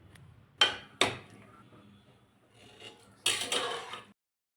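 Spoon scraping and clanking in a pan while chicken curry with onion and green chilli is stirred, with sharp metallic knocks and scrapes in bursts separated by quieter sizzling, close and clear.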